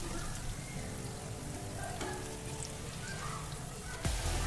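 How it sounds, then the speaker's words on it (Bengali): Ripe banana fritters fry in hot oil in a pan, a quiet, continuous crackling sizzle with scattered pops and a brief clatter near the end as they are turned. "এখন আমি একটু উল্টে পাল্টে ভেজে নেব সুন্দর করে"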